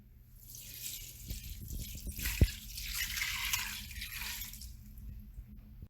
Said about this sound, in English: So we're gonna go ahead and pour the water in.